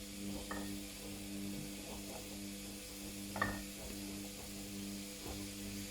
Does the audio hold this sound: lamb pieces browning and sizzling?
yes